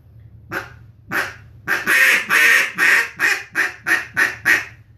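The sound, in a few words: duck call imitating duck quacks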